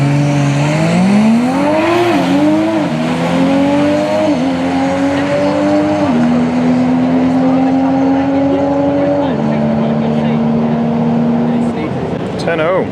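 Big-boost Toyota Supra making a quarter-mile drag pass, a loud engine climbing through rising revs with several gear changes, then a long sustained high note that cuts off near the end.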